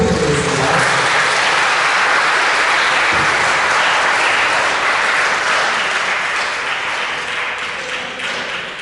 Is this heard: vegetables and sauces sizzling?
no